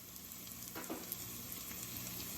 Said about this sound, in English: now onions into the bacon. And let those saute